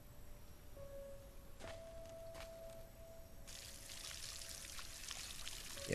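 Water poured for a chicken in the farming video game Solarpunk, a soft, faint trickle under a steady tonal hum, with a brighter splashing pour rising in the last few seconds.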